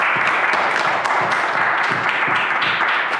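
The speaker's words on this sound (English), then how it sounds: "I think that deserves a round of applause" An audience at a charity fundraising event gives a loud, sustained round of applause, many hands clapping together in a thick, even roar that carries on without a break.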